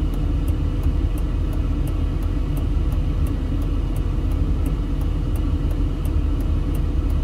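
Car driving through Las Vegas streets away from the Strip in extreme heat, a steady low road and engine rumble that continues evenly throughout, heard from inside the vehicle with a faint repeating tick on top.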